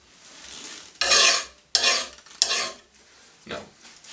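Steel file rasps across a lawn mower blade in four distinct, bright scraping strokes, each a short loud burst with brief pauses between, close up with no talking.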